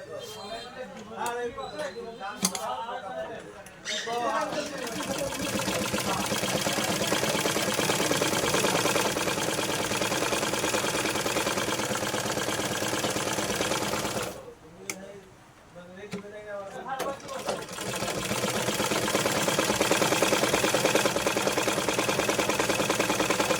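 A sewing machine stitching through a piece of test cloth after a tangled-thread fix, a fast steady mechanical whirr running for long stretches and stopping briefly midway, close up.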